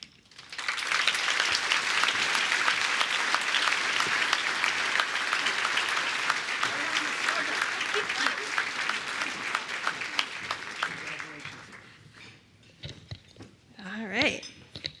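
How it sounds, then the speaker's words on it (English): Applause from the audience at a Junior Achievement business hall of fame event, a dense sustained clapping that fills the room for about ten seconds before tapering off, with a voice starting near the end. "Please help give a big round of applause to our 2 JA students from Portland High School"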